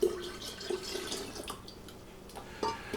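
Lemon juice is poured into a pitcher of lemonade, giving a soft trickling, dripping flow with a few small splashes, close and fairly quiet, with no talking.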